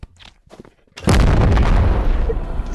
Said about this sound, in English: I got my first kill. With the rocket launcher.